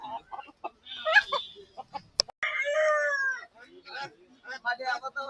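Roosters and hens in baskets at a poultry market cluck and call in short bursts, with one longer drawn-out cry in the middle, mixed with nearby talking.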